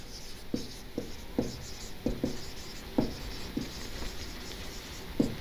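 Chemistry equations being written on a board, with sharp intermittent taps and strokes of the writing tool spaced about half a second apart, close but soft over a faint background hiss.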